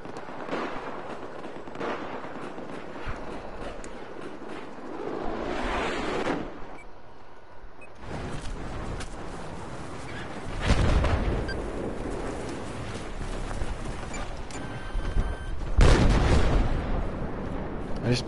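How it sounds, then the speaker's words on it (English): Explosions in Battlefield, a sustained din of loud blasts and rumbling detonations that surge in waves, with the heaviest bursts near the middle and end. "Detonated something."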